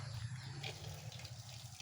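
Water from a well pump runs and splashes steadily, a faint continuous rushing trickle with a low hum beneath and no voices.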